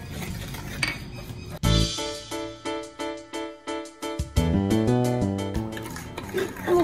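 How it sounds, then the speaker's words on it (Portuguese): A spoon stirs yeast into warm milk with sugar in a bowl, producing a run of quick, rhythmic clinks and scrapes against the container, close and fairly loud, with no talking. "o fermento, o leite morninho, mexo bem para dissolver o fermento"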